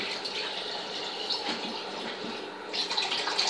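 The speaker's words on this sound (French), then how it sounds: "j'ai ouvert l'eau du robinet" Water gushes steadily from an open tap, a close hissing splash that swells slightly louder toward the end; no voices.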